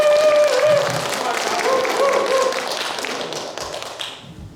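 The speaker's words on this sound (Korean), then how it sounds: "우리 크게 박수해 주세요" An audience at a church school Bible recitation contest claps, giving a dense, steady patter of many hands that lasts about four seconds before tapering off. Faint voices and tones sit underneath.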